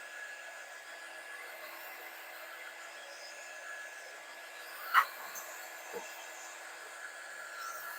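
A hair dryer blows steadily over a wet painting of cardinals to dry the paint, a constant airy whir that holds for the whole stretch, with one brief sharp knock partway through.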